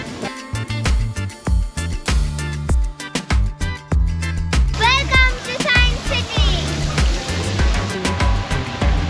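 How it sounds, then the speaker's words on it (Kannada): Water pours and splashes from a floating tap installation at Science City in Kolkata, a continuous rushing stream under loud background music and people talking nearby. "ಮೇಲೆ ಎಲ್ಲಿಂದ ಹೋಗ್ತಿದೆ ನೀರು ಒಂದೇ ಟ್ಯಾಪ್ ಇಲ್ಲ"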